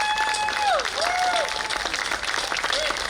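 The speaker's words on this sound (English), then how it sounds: "A big round of applause for Chris Pulaski" An outdoor audience at a bicentennial festival time capsule presentation applauds in steady, moderately loud clapping, with whistles and gliding tones cutting through the crowd noise.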